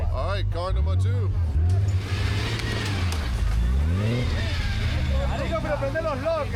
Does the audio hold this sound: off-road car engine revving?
yes